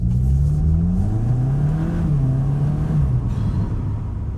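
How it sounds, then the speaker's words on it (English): A 2023 Cupra Leon Estate engine revs up steadily, a low rising rumble with a faint intake whoosh and slight burble, continuous and close, with no voices. "a little bit of induction sound, tiny bit of a burble"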